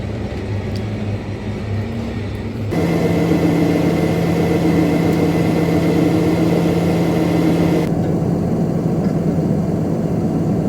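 A farm tractor idles in a dairy farmyard, a steady low engine drone whose pitch and loudness step up after a few seconds and hold, running alone without talk.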